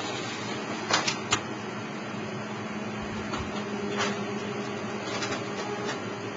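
A Miehle Vertical V45 printing press running thick card stock for small cardboard boxes, a steady mechanical whir with a few sharp clacks near the start and lighter periodic clicks, close and without talk.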